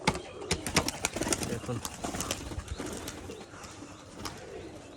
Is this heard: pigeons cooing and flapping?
yes